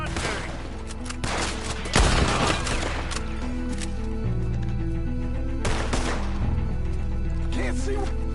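Gunfire in a shootout in the video game Red Dead Redemption 2, repeated sharp shots cracking over a droning music bed, with a louder burst near the start and another later.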